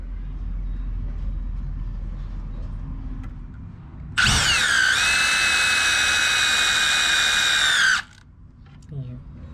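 A Milwaukee M18 impact drill bores through hard, dry wood in one steady, loud, high-pitched whine of about four seconds. It starts abruptly and stops abruptly, with quieter room noise before and after.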